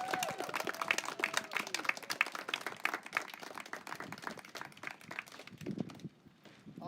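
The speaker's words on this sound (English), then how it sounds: "Let's give them a round of applause." A small audience claps for high school athletes at a Dos Pueblos signing day, quick close-by claps that thin out and fade near the end.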